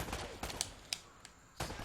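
Several sharp gunshots in the action game Uncharted: Drake's Fortune, fired one at a time in short bursts with uneven gaps, loud and near against a busy game background.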